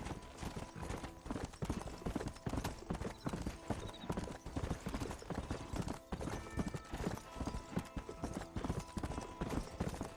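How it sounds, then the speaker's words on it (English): Horse hooves clip-clop in steady, brisk rhythm in the video game Red Dead Redemption, close and continuous across the whole stretch, with an occasional faint whinny and game ambience beneath. "Okay, horse."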